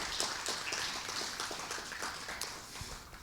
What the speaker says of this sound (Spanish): Alguien le da un aplauso al Señor por eso.